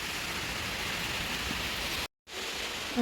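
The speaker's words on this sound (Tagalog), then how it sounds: "Lakas na naman ang ulan." Heavy rain pouring outside a house, a dense steady roar of falling water, loud and continuous with a brief dropout near the end and no talking.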